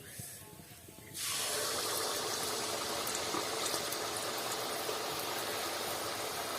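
Banana and rice-flour pitha batter frying in hot oil, a steady loud sizzle that bursts in after a quiet second and then holds evenly, close up.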